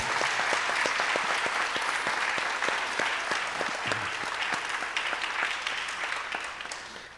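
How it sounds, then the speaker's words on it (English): Steady, loud applause from an audience at a mridangam debut recital, dense clapping that holds throughout and fades slightly at the end. "Let's give them a loudest applause possible for the, all the gurus."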